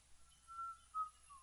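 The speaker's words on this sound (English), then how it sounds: "I hear one whistling" An enemy in the video game Fable: The Lost Chapters whistles somewhere off to the side, two faint, short tonal whistles rising above a quiet game background.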